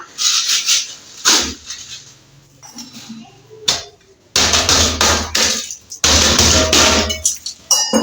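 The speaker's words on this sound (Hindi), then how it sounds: "बर्फ टूटनी नहीं जा रही इससे।" Ice is struck repeatedly in a kitchen, with sharp cracking and clattering impacts arriving in irregular bursts, some spaced apart and others in quick loud clusters, close to the listener.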